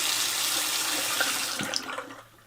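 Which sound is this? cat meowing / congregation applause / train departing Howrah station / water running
water running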